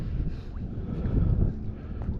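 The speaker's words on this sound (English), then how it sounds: "Say it's cold out here, the wind's blowing." Cold wind blowing outdoors during magnet fishing by the water, a loud steady low rumble of gusts buffeting the microphone, swelling briefly in the middle with no talk.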